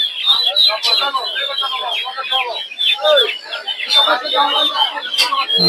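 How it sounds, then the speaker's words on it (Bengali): Dense chorus of Silkie chicken chicks cheeping and clucking continuously at a poultry market, close and busy, with a few higher peeps standing out throughout. "হচ্ছে সিল্কি মুরগির বাচ্চা"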